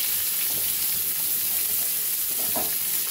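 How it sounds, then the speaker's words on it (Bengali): A thinly sliced medium onion fries in hot oil tempered with cumin, bay leaf, cardamom and cinnamon, a constant close sizzle broken by brief stirring scrapes, with no talking. "পেঁয়াজটা একটু ভাজা ভাজা করে নেব।"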